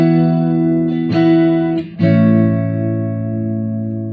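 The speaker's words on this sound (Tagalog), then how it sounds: "Try natin patunogin yung kanyang neck pickup." A bass guitar played through its neck pickup: sustained, harmonically rich tones ring out loud and close, with two fresh plucks about a second apart, the last note decaying slowly and no voice.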